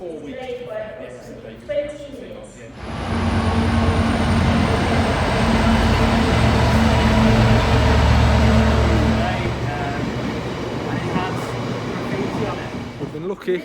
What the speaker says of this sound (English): The Milford Haven train, which we're taking, is on time.